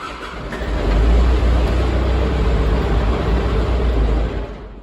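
A vehicle engine in a heated shop cranks over for a long stretch and then fires, a loud steady low rumble that swells in and holds before tapering off near the end.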